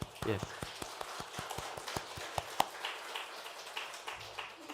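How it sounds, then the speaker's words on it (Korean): A church congregation clapping to welcome a guest, a quick, even rhythm of claps heard fairly softly at a distance, with people talking over it. "우리 한번 환영한다고 박수 한번."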